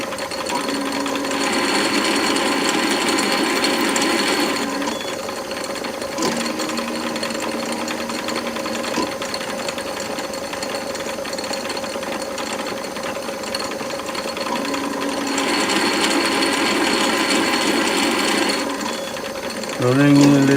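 A Myford ML7 lathe in back-gear cutting a 2mm lead ACME thread in 303 stainless steel at just under 200 RPM, giving a steady close mechanical whir and gear drone with cutting passes swelling and fading.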